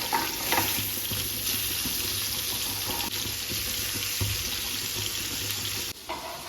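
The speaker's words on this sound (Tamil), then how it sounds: "இந்த பக்கம் மீன் வருவது வறுத்துக்கிட்டு இருக்கோம்" Fish frying in a home kitchen during Pongal preparations, a continuous hissing sizzle with a faint background hum and a few soft knocks, no talk over it.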